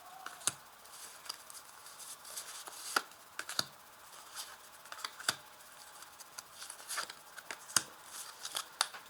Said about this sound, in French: je vais ajouter une carte en direct sous chacune des cartes.